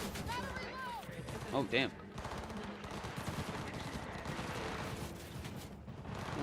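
Gang gunfire in Cyberpunk 2077, with bursts of shots crackling through a busy, loud street fight, while someone talks briefly over the noise.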